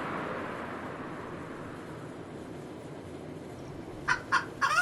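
Low ambient murmur, then a few short clucks from chickens near the end, close and brief.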